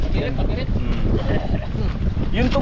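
Strong wind rushes and buffets the microphone over the hum of a boat on the water, with people talking throughout.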